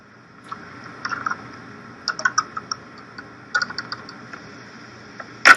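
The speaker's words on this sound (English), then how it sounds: "You're typing in." Someone types on a computer keyboard while writing a post in an online course discussion forum, making scattered bursts of quick, light key clicks with short pauses between them, close by and in an otherwise quiet room.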